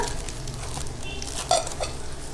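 Biryani masala being stirred in a hot pan, a brief close sizzle with a couple of light utensil clinks partway through.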